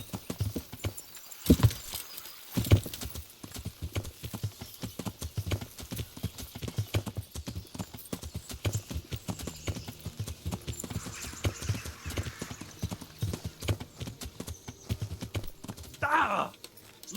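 Steady clip-clopping of horse hooves in a quick rhythm in the video game Kingdom Come, with a short whinny near the end and brief shouts early on.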